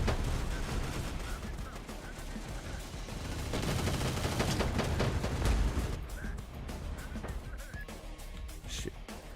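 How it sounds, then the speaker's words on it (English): Mortar fire and gunfire from the Defiance Reborn full overhaul mod fill the battlefield with a dense, continuous roar of rapid shots and heavy rumbling impacts, steady and loud throughout. "Mortar's opening up."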